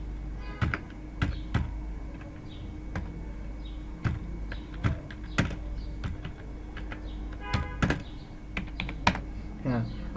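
Someone types on a computer keyboard in scattered bursts of crisp, close keystrokes with pauses between them, over a low steady background hum.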